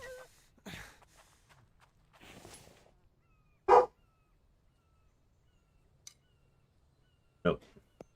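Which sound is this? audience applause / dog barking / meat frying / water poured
dog barking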